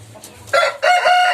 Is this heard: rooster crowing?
yes